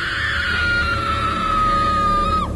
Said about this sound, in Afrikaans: Ek het 'n snaakse geluid gehoor, 'n vrou wat geskree het.